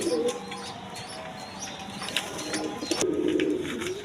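Satin pigeons coo softly in a loft, with low murmuring calls and scattered rustling and tapping close by, no speech.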